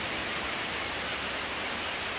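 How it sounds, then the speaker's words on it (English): Steady rain falling outdoors in the Philippines, a continuous even hiss of drops on surfaces, moderately loud and unbroken, with no voices. "it's raining here"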